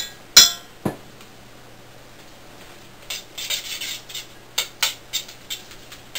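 Pasta stirred with pesto in a pan, a utensil scraping and clinking against the metal: two sharp knocks early, then a run of soft rhythmic scrapes and taps, fairly quiet and close.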